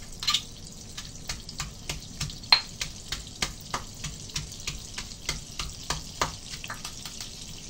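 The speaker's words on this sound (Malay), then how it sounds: "Kita nak tumis bahan-bahan yang tumbuk tadi." Pounded garlic, lemongrass, shrimp paste, dried shrimp and bird's eye chillies sauté in oil in a pan for nasi goreng, giving a continuous low sizzle with a regular series of clicks from a spatula stirring.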